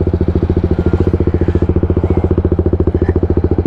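TVS Apache RR310 motorcycle with an aftermarket exhaust, idling close and loud with a fast, even, deep thumping pulse and a heavy bass note throughout.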